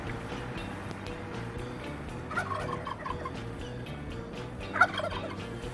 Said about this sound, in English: There are two turkeys inside of this tent.